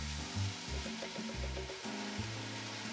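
Whole peeled plum tomatoes from a 28-ounce can tipped into a pan of hot garlic, giving a steady close sizzle and crackle with soft thuds and stirring scrapes, no voices.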